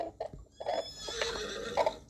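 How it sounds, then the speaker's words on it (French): A horse rears and neighs in a horse riding video game, with several loud whinnies rising and falling across the moment over a steady background of game sound. "de plus en plus, ton cheval il cabre haut."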